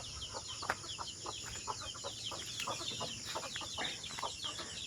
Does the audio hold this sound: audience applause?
no